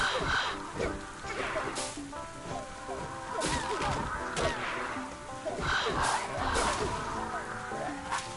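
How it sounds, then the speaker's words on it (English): Birds in The Swords of Ditto caw harshly several times over busy game sound effects and music, the calls repeating irregularly at moderate loudness amid a dense, cluttered mix. "Damn birds."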